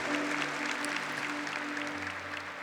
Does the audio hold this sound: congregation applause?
yes